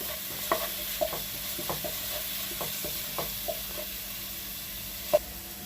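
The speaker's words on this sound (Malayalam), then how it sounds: "ഇനി നന്നായി വഴറ്റി കൊടുക്കുക രണ്ടും കൂടി." Green chillies and onions sautéed in a pan for chicken biryani, with a soft sizzle under regular scraping strokes of a spoon, ending in one sharper clack.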